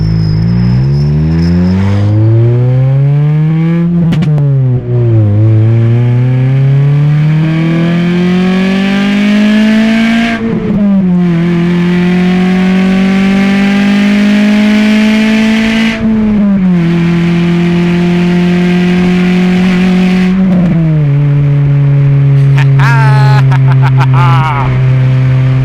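A Honda K24-engined car's exhaust revs through the gears while driving at night, with loud, close engine drone rising in pitch, dropping at each shift, then climbing again across several pulls.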